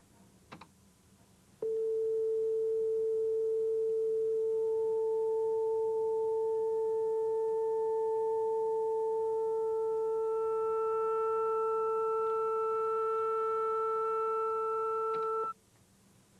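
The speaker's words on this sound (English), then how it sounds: "I'll play the sine wave at 440 hertz and add in the other two sine waves" A pure 440 Hz sine tone sounds steadily, then two harmonic sine tones join it, producing a sustained combined note of about fourteen seconds that stays at the same pitch. The tone stands alone, with no talk over it.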